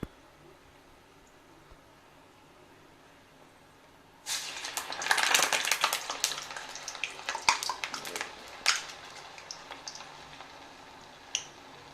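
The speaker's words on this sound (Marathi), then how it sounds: "तेल छान तापलंय. आता आपण यात वडा सोडूया." Medu vada, urad dal fritters, drop into hot oil and set off a sudden steady crackling sizzle that keeps bubbling with scattered pops, close and loud after a few quiet seconds.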